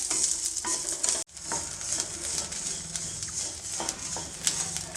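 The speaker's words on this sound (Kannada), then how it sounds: "ಗ್ಯಾಸನ್ನು ಮೀಡಿಯಮ್ ಫ್ಲೇಮಲ್ಲಿ ಇಟ್ಬಿಟ್ಟು ಇದನ್ನು ಅಳ್ಳೇಳೋವರೆಗೂ ಸ್ವಲ್ಪ ಫ್ರೈ ಮಾಡ್ಕೊಳ್ತೀನಿ" Sago pearls fry in ghee over a medium gas flame, producing a continuous crackling sizzle with light stirring taps. A brief dropout occurs near the start, and the frying then resumes steadily.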